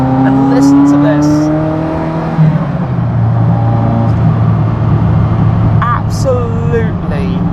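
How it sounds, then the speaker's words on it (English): A car engine revs and drones loudly close by, pitch rising and falling through shifts, with scattered sharp exhaust pops and crackles breaking through toward the end. "The pops, bangs and cracks and crazy sounds happening behind me"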